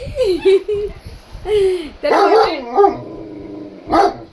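A small puppy yips and whines in short bursts, high-pitched and close, alternating with people talking nearby.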